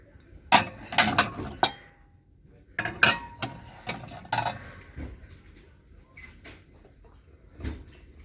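Rustic ceramic plates and dishes are handled and set down, giving a series of close, sharp clinks and knocks spaced irregularly, louder at first and then softer.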